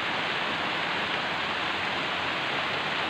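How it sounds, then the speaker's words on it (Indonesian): Heavy rain pours down steadily in a dense, unbroken hiss over a garden of bougainvillea, loud and close, with no voices or other sounds. "Ini kalau diguyur hujan seperti ini"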